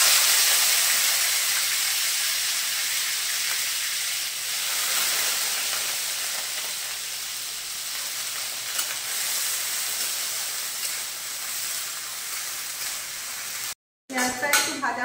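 Chopped onions hit hot oil in a kitchen pan and fry with a loud, continuous close hiss and sizzle that fades slightly over time, with no talk over it.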